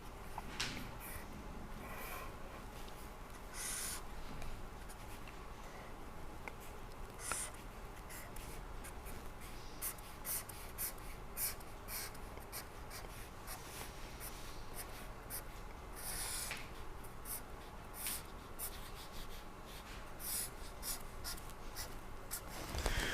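A pen or pencil scratches across paper while a machine component and shaft are sketched, with steady faint strokes and small taps, close and quiet, with no voices.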